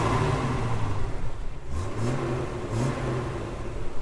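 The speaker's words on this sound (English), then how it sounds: "get some revs" A Jeep Wrangler engine is revved several times up close, each rise and fall of pitch standing out clearly over the steady running noise, and nobody talks.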